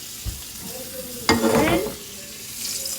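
Onion and shrimp fry in a pan with a soft crackle, then a louder burst of sizzling and stirring in the middle that fades back to a gentle fry.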